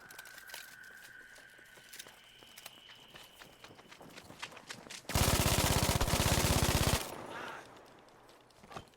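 Machine gun fire in a video game, a loud sustained burst of rapid shots lasting about two seconds mid-clip, with quieter game sounds and footsteps before and after.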